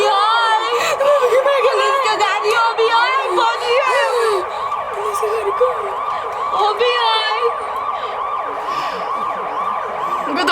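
A police car or ambulance siren wails loudly and continuously, its pitch sweeping up and down in repeated cycles, with voices faintly beneath it.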